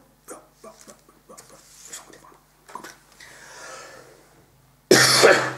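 A person gives one loud, close cough near the end, after a stretch of quiet handling noises and faint, sparse vocal sounds.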